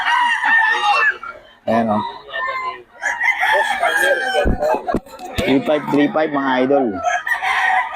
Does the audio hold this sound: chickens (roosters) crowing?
yes